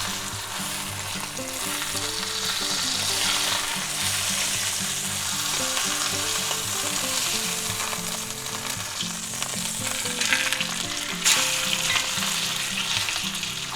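Steady loud sizzling and crackling of chuck roast steak frying in a hot cast iron pan, continuous and close, with no voices.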